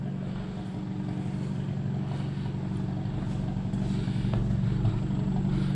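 A VW Golf GTI MK7 with a new Mamba GTX3071R turbo idles in a steady low-pitched hum with light clatter and slight rises in level. No voices are heard.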